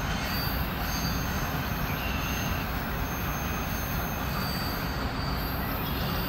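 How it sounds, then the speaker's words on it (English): A train idles on the tracks while waiting for a crew change on an evening run, its steady low rumble and broad hiss holding even and unbroken throughout. "So this other train's been sitting there quite a while, waiting to make their crew change."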